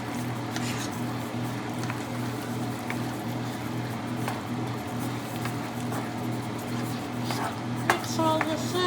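Food being stirred in a pan while cooking dinner, with soft scraping and clinks of a utensil against cookware over a steady low hum, close and continuous, with no talking.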